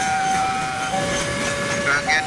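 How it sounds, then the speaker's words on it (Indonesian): A train rolls by nearby at a level crossing in Ambengan, Surabaya, with a loud, steady rumble and a thin metallic whine running throughout. "Satunya ini kok kereta ini"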